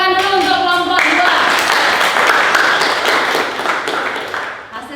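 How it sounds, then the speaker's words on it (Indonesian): A classroom audience claps for a presenting student group, a dense burst of applause close by that fades out gradually. A voice is heard just before it begins. "Sebelumnya kita berikan tepuk tangan dulu untuk kelompok 2."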